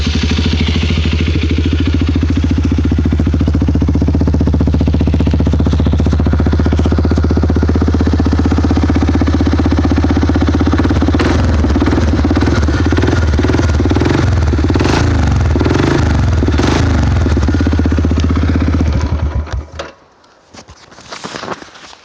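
A 2012 Suzuki KingQuad 400 ATV with an HMF exhaust runs steadily at idle with a deep, throaty rumble, then blips the throttle in quick repeated revs before the engine cuts off near the end.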